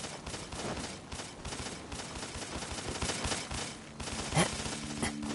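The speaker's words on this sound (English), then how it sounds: "Please stop shooting at me." Rapid bursts of video game gunfire crackle through a busy, noisy scene, fairly loud and continuous, with a sharper shot standing out near the end.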